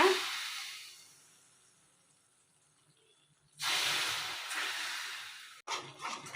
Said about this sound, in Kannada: ಸುಡು ಸುಡು ಎಣ್ಣೆ ಇದು ಬಬಲ್ಸ್ ಬರುತ್ತೆ ನಿಧಾನಕ್ಕೆ ಹಾಕ್ಕೊಳ್ಳೋಣ